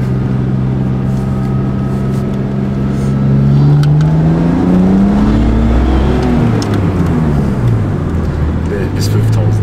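A BMW 325 fitted with a turbo and supercharger revs up, its engine note climbing loudly to around 5500 rpm, then falling and rising again from inside the car, with people talking over it.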